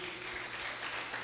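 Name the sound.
congregation applause in church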